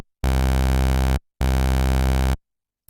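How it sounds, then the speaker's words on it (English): Two identical sustained low, buzzy synthesizer sawtooth tones two octaves down, each about a second long, separated by a short silence. "take it down 2 octaves to -2 with the sawtooth waveform"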